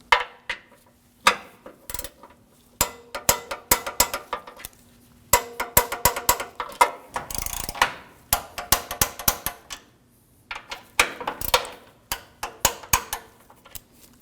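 A ratchet torque wrench tightens the front bumper impact absorber bolts on a 2013-2015 Subaru XV Crosstrek, giving close, crisp rapid clicking bursts in repeated runs with short pauses between, and no speech.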